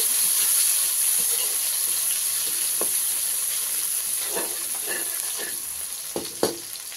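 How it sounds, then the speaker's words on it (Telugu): Sliced medium onion frying in a pan, giving a steady bright sizzle with a few sharp pops and crackles toward the end, close and alone. "కొద్దిసేపు వేగనిద్దామండి ఈ ఉల్లిగడ్డలు"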